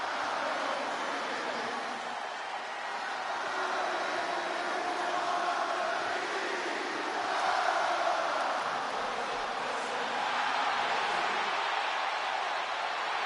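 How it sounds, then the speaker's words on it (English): A wrestling arena crowd in WWE 2K26 roars in a sustained ovation for CM Punk, a dense wash of cheering that swells and ebbs for several seconds, with no clear talk over it. "Just listen to this ovation for the Second City Saint."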